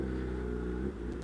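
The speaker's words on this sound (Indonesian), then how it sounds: "Motor berisik mau lewat." A loud, noisy motorcycle engine drones steadily close by, its tone shifting slightly as it moves past.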